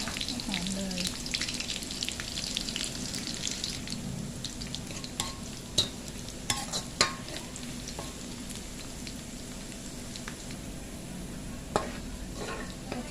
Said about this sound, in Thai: น้ำมันเดือดแล้วเราใส่หอมแดงลงไปเลยค ่ะ เดี๋ยวให้สุกนะ